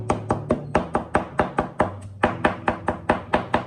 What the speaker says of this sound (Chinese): 然后再用刀切成小颗粒